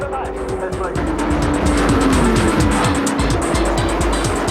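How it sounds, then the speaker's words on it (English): Modified, tuned sedan race cars roar around a track at high speed, engines snarling loud and continuous with rising and falling pitch as cars pass close together, a tire squeal threading through the din while a narrator talks over it. "These modified sedans are speeding around the track at about 250 kilometers an hour."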